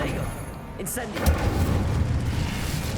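Incendio fire spell cast in Hogwarts Legacy, a sudden booming burst that swells into a sustained low rumble and crackle, with game sounds layered around it.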